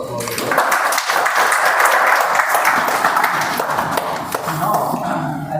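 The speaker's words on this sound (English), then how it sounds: "that's a good round of applause" A Toastmasters club audience at a milestone meeting celebration breaks into a loud, sustained round of applause, dense and continuous, with voices faintly mixed in.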